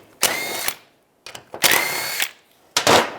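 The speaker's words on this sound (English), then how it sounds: "You can use a 14mm socket" Three bursts of an impact wrench or power drill with a 14mm socket, loosening the rear brake caliper bolts on a 2001-2008 Chevy Trailblazer, each burst sharp and close with short pauses between.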